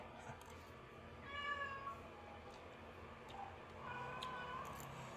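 Cats meow a few times in drawn-out, wavering cries over a quiet, noisy background.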